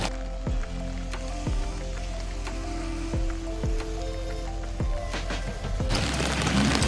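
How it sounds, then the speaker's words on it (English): Rain falls steadily in Madeira, a continuous wash of drops with occasional heavier splats and a brief louder burst near the end. "Unfortunately, it did not stop raining"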